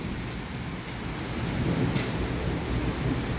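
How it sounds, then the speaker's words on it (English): Hard rain pours steadily through a thunderstorm, a dense continuous wash of drops with faint low rumbling beneath, close and fairly loud throughout, rising slightly in the second half. "I'm hearing some pretty hard raindrops right now."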